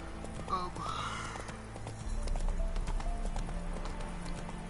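Horse hooves clip-clop at a gallop in The Witcher 3, a steady rhythmic pounding close by, with a brief whinny early on and game music and ambience underneath.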